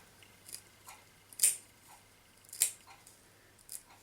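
Scissors snip through stockinette fabric in a few sharp, separate cuts spaced about a second apart, close and crisp against a quiet background.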